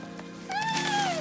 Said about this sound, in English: Whose purple cat is that?